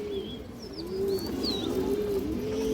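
Several Muslodom pigeons coo in overlapping low, rolling phrases close by, steady and continuous, with faint higher bird chirps above.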